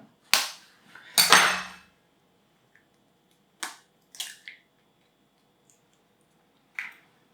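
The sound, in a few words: separating egg yolks from whites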